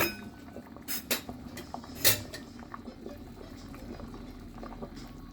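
Chinese soup simmering in a pot after an hour and a half of boiling, with a low steady bubbling bed broken by a few sharp clinks of utensils against the pot.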